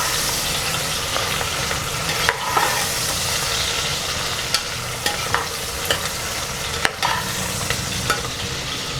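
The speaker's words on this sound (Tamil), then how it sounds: "வெங்காயம் போட்டு வெங்காயம் நல்லா வதங்கட்டும்" Onions sautéing in a pan for tomato rice give a steady, close sizzle, broken by occasional sharp clicks of a spoon stirring against the pan, with no talk.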